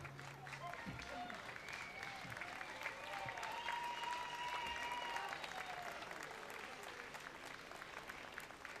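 Crowd applause at a live outdoor concert at a wine festival in Râșnov, a steady wash of clapping from a mid-distance audience with faint tonal sounds ringing above it.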